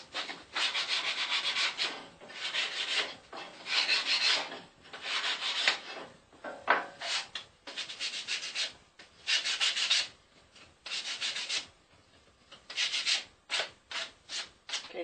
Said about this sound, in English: Now we'll just do a little light sanding on the edges to clean them up.